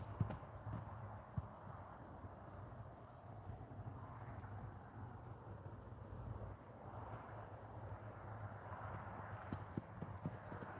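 A young horse being ridden out gives faint, steady clip-clopping hoofbeats with a few sharper strikes, heard at a distance over quiet background noise.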